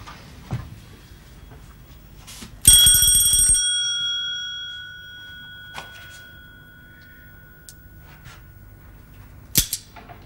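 A single bell rings out sharply and close in a 1970 British spy drama, its bright metallic tone hanging and fading over a couple of seconds, with a few soft knocks before and after in otherwise quiet surroundings.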